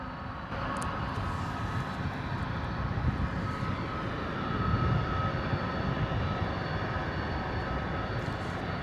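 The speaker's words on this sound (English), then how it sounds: "beautiful DHL hot dog A300 going to be next out the door, off to Milan here, hoping for a full noise departure" A DHL Airbus A300 freighter bound for Milan rolls into its takeoff, the jet engines building to a loud, sustained broadband roar that swells and holds steadily, heard from a distance without speech.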